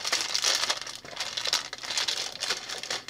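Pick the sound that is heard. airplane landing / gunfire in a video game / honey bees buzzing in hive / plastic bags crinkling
plastic bags crinkling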